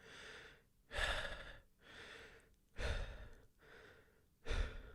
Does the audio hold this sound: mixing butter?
no